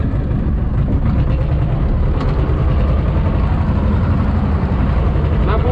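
A farm tractor engine, around 80 horsepower, runs loud and close in a field before ploughing fallow land, with a steady, unbroken low rumble throughout.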